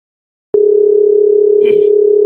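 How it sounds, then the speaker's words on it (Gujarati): A phone call tone sounds as one steady, loud continuous hum that starts abruptly and holds, with a brief faint rustle partway through. "હું લીલાને ફોન કરું"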